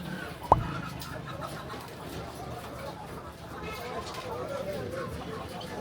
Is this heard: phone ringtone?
no